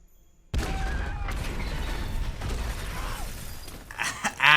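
Glass shattering during an explosive riot scene in the Andor TV series: a sudden loud crash opens into a sustained roar of breaking, clattering debris, with brighter crackling bursts near the end.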